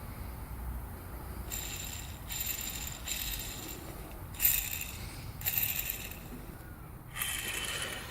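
Rough mechanical grinding and rattling from a worn crankshaft bearing on a two-stroke crankshaft spinning, coming in several short bursts with quieter gaps between, fairly faint.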